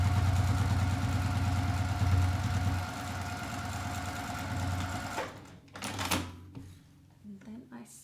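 A sewing machine stitching a sling bag with a long stitch length, humming steadily and close for several seconds before stopping, followed by a few clicks and handling sounds.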